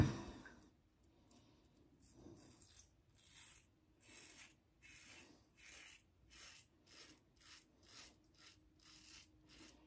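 Close, faint strokes of an Edwin Jagger 3one6 safety razor fitted with a blade, scraping through lathered stubble in a steady rhythm of short rasping passes, with no talking.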